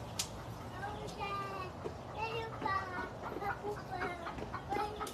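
Chickens cluck in a Filipino home setting, short calls scattered over a steady background with children's voices and other talk nearby.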